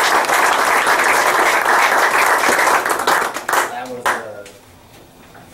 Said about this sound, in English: I'll give Mr. Joe Casey a round of applause.